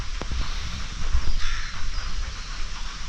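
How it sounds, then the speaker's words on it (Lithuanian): Crows caw a few times in the distance, faint and scattered over steady outdoor background noise. "Varnos aplink skraido."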